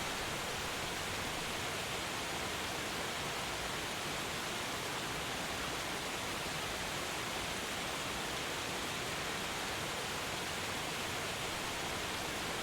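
A powerful waterfall roars as an even, unbroken wash of rushing water, dense and steady throughout without any variation or other sounds.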